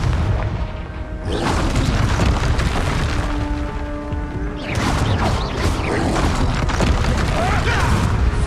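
Confringo fire-blast spell in Hogwarts Legacy, heavy booming explosions with crashing debris, loud and dense, rolling on through a short lull and then a second burst, with a voice and game effects underneath.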